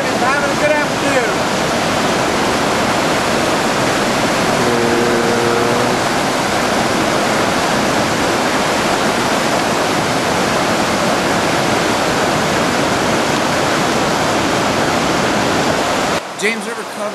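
Whitewater of the James River at the fall line rushes in a steady, broad, loud roar that runs unbroken throughout, close by and with no voices.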